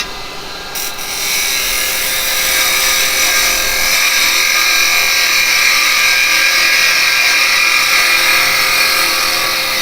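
A woodturning tool cutting wood on a spinning lathe while a wig stand is turned, giving a steady loud hissing, scraping shear over the motor's hum, continuous and close.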